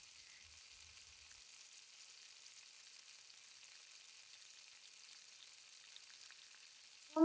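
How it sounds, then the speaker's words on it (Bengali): A cartoon sound effect of fish frying in a pan gives a faint, continuous hissing sizzle, steady and quiet, before a sudden short burst at the very end. "আজকেও তুমি মাছ ভাজছো?"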